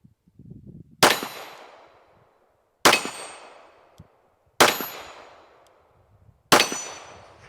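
Four widely spaced shots from an MPA double-stack 9mm pistol ring out, each a loud sharp crack followed by a long ringing clang off steel targets that decays for over a second, close and alone without talk.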